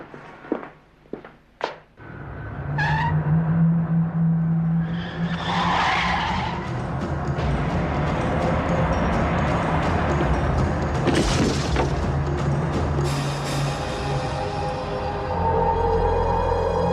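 In a crash test, a car skids toward a dummy. A few sharp clicks come first, then a long, loud tire skid and squeal with rumbling impacts that runs on for many seconds.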